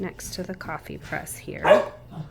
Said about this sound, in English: I know you can hear my dogs barking.